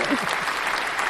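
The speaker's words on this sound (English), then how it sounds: "I'm trying to give you a round of applause" Canned applause effect played over a live stream, a steady wash of crowd clapping at even volume throughout, with a voice faintly underneath.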